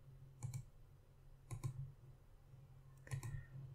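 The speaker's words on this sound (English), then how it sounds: "right click here and delete" A computer mouse gives three separate pairs of quick, close clicks, evenly spaced, with a low steady hum in the quiet gaps.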